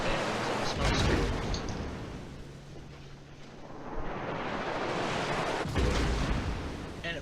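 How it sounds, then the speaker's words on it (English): Heavy naval gunfire in the warship game World of Warships, with an enemy Neptune cruiser firing from smoke at a Missouri battleship: deep booming salvos and rumbling impacts recurring over a continuous roar of engine and sea noise. "the enemy Neptune has taken up a smoking position over there, and is currently shooting at me"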